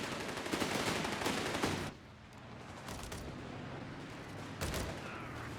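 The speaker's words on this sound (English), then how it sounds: "Heavy enemy fire!" Heavy gunfire and mortar fire in the Company of Heroes 3 video game, a dense loud volley of rattling shots, then quieter distant firing with another burst near the end.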